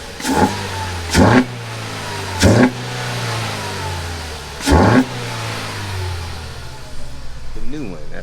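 A 2013 Ford Focus SE 2.0-liter non-turbo engine with a new filter revs sharply four times in short bursts over a steady idle, close by, with a brief mechanical rattle at the end.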